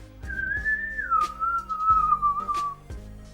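A person whistles a sustained, wavering tune, the pitch sliding down partway through, with soft background noise and faint knocks.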